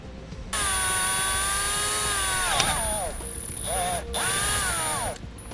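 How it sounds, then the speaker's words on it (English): A power drill whines at a high steady pitch while drilling a 1/4 inch hole, dropping in pitch as it bites, stopping briefly, then spinning up again close by. "We're going to start off by drilling a 1/4 inch hole."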